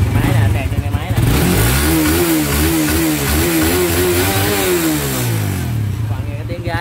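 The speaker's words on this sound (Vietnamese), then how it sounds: "Các bạn nghe cái tiếng gái của cái máy 150 của Suzuki đã không?" A Suzuki 150cc motorcycle engine runs close and loud, rising through a smooth rev and falling back to a throaty idle, while people talk over it.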